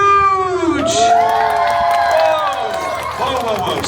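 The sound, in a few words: audience cheering and applause at Deadpool show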